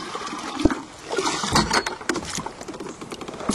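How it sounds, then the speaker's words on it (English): Water splashes and trickles irregularly into a bucket while fishing outdoors, with sloshing and a few sharper knocks, moderately close and with no talking. "I'm gonna fill a little water here in my bucket."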